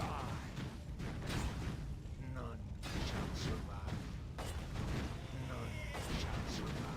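Units in Warcraft 3 firing at an aircraft, a dense continuous clatter of thumping shots and mechanical battle noise mixed with a voice.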